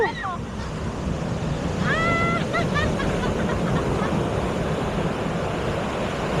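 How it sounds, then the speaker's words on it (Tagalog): Large ocean waves roll and crash continuously onto a beach during a typhoon, a broad loud roar with wind noise, while voices call out briefly over the surf. "Malaki alon."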